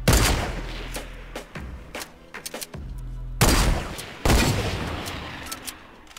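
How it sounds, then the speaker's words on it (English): Rapid bursts of gunfire from the video game Fortnite, with loud volleys and several sharp separate shots that stop and start across the stretch, and no talk over them. "My shots aren't even going towards him."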